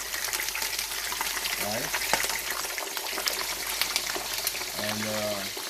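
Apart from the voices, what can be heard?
fish frying in a pan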